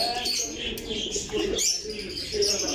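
Rampuri pigeons cooing softly nearby amid faint chirps and rustling, a few low repeated calls over a short stretch.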